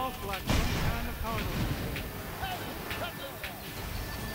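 Triple rocket weapon firing in the racing video game Cars 3: Driven to Win, giving sharp blasts and booms amid engine noise and game effects, with a voice talking over it.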